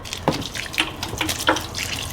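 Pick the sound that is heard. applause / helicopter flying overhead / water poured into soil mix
water poured into soil mix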